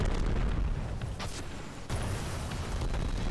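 Rocket explosions in the shooter game Destiny 2, a dense rumbling wash of booms running through the whole stretch, with a sharp new blast hitting about halfway in and no talk over it.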